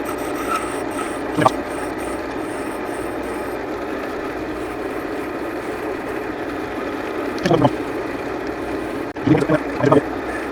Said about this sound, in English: So there'll be planing cuts to create this dip